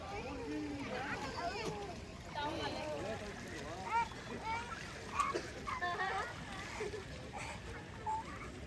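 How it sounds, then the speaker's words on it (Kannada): Water splashes intermittently as people bathe in a river at Dharmasthala, with voices, including children, chattering throughout. "ಫಸ್ಟ್ ಟೈಮ್ ನದಿ ಸ್ನಾನ ಮಾಡ್ತಾರೆ"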